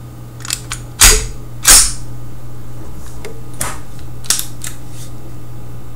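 A Walther PK380 pistol's action is worked by hand, producing two loud, sharp metallic clacks close together, followed by several lighter clicks and rattles.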